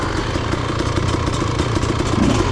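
A motorcycle is held at high revs in second gear while a beginner rides at Wellsville. The engine sounds loud and close, with a steady, slightly rising drone and mechanical clatter throughout, and no voices.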